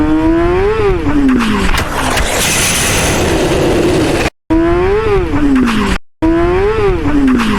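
A Yamaha R6 sport motorcycle at around 100 km/h revs hard, its loud engine whine climbing and dipping in pitch over rushing wind noise, with two brief cutouts.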